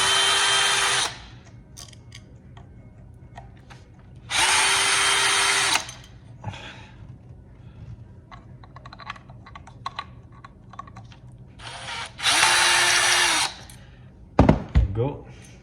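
Power drill whirring in three separate bursts while removing screws from a Kenmore Ultrawash Quiet Guard 3 dishwasher, each burst about a second long and loud, with quiet clicks and handling noise between them and a brief clunk near the end.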